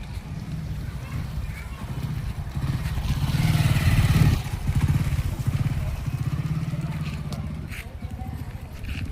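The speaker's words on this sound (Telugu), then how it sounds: "ఈ బండి వచ్చేసి మహేంద్ర యువ టెక్లెస్ 570" A 2023 Mahindra Yuvo Tech+ 575 tractor engine runs close by with a steady, pulsing diesel rumble that swells around the middle and then settles back to a throbbing idle.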